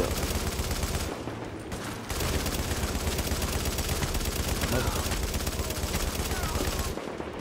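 Gunfire from the video game The Division, a dense run of rapid shots that continues almost without pause and stops briefly twice, heard at moderate level with no talk over it.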